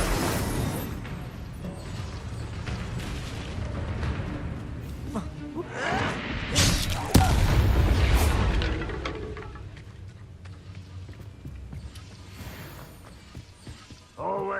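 Hogwarts Legacy combat with the Incendio fire spell: whooshing, booming bursts of flame rise loudest near the middle, amid dense, continuous game effects.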